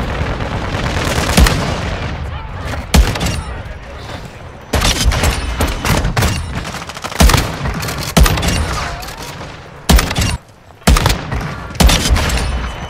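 A WA 2000 sniper rifle fires rapidly in the video game Warzone 2. Loud, close shots crack in quick bursts, separated by brief lulls and sudden cutoffs.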